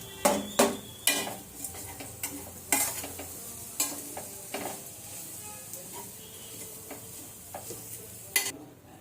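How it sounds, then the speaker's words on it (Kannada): Paneer is stirred into fried rice in a pan with a metal spatula, producing repeated sharp clinks and scrapes over a steady sizzle. The strokes are frequent at first, then sparse. "ಇವಾಗ ಇದ್ರ ಜೊತೆನೆ ಪನ್ನೀರ್ನ ಹಾಕೊಂಡು ಮಿಕ್ಸ್ ಮಾಡಬೇಕು"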